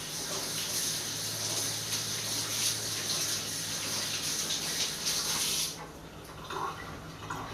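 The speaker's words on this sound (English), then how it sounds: "Let me go wash my hands real quick." Water runs steadily from a tap into a kitchen sink as hands are washed, a close continuous hiss and splash that stops near the end, leaving faint dripping and handling sounds.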